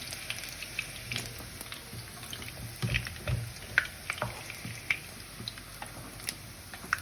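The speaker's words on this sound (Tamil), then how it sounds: "இறைச்சி பொரித்த எண்ணெயிலேயே இதையும் போட்டு பொரிக்கும்போது" Noodles fry in oil that was already used to fry meat, giving a faint, steady crackling sizzle with scattered soft pops and drips close by.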